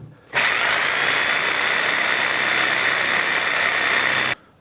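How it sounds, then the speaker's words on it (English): A power cutting tool grinds through the metal ring of a rear knuckle bushing on a 2002 Honda Civic, a loud continuous high whine that starts abruptly, holds steady for about four seconds and then cuts off. "Let's see if we can cut through this metal ring."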